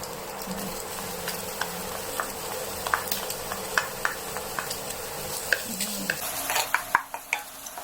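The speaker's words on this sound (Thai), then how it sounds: "เดี๋ยวเราก็จะมา เจียวกระเทียม นะคะ" Garlic frying in oil in a pan, a steady soft sizzle with scattered crackles and pops that grow more frequent toward the end, plus a few faint clinks of stirring.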